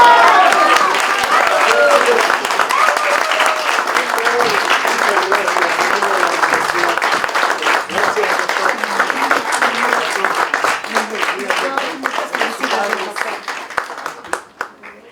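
Sustained applause from an audience at a ceremony awarding medals to teachers for academic seniority, dense clapping filling the whole stretch at steady loudness before thinning at the end, with cheering voices mixed in.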